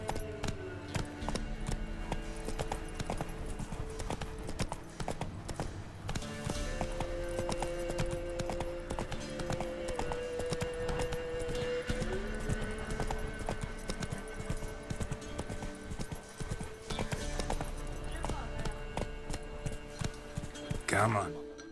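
Hoofbeats of Roach the horse from The Witcher 3 clatter in a steady, continuous clip-clop throughout the ride, set against game music and ambience, with a voice occasionally speaking over them.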